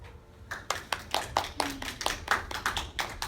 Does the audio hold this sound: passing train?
no